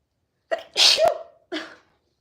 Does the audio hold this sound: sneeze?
yes